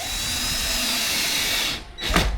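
A power drill drives screws into a Twin XL daybed with storage drawers during assembly, a steady close whir running for nearly two seconds before stopping, then a short second burst.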